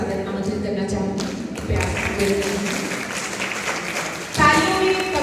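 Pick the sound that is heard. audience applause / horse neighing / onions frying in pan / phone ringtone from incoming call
audience applause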